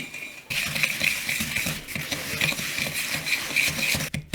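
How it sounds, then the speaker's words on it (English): Butter and coconut sugar being whisked in a bowl for gluten-free gingersnaps: rapid, steady scraping and clinking of the whisk against the bowl, close and continuous, with no talking. "And I'm just gonna mix this around just till it's mostly combined."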